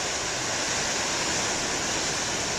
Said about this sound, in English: seems to be a big lull in the big waves here.